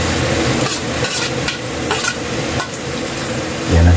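Onions sizzle and fry in a pan while being stirred for a Tagalog-style carabao meat stick dish, a steady crackling hiss with scraping stir strokes and a louder clatter at the end.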